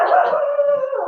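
A dog lets out a drawn-out, howling bark, loud and close, holding one wavering tone for about a second.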